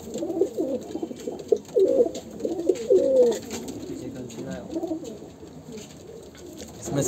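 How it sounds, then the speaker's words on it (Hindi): Allahabadi-breed and other flying pigeons coo close by in repeated rolling calls, loudest in the first few seconds and then settling into a softer murmur. "ज़्यादातर के इलाहाबादी कबूतर है"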